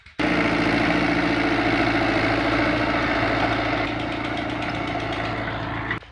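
A 2020-model tractor engine idles steadily for several seconds, a loud, close, even mechanical rumble with constant vibration and no voices.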